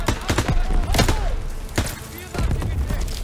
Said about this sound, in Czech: Odkud na mě střílí